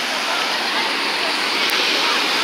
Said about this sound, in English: The waves are coming back for real.